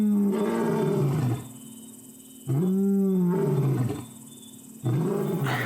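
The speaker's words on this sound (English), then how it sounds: "So when you hear this roar at night," A lion roars in a series of deep, loud grunting calls, three long powerful bursts separated by short pauses, heard nearby without any talk.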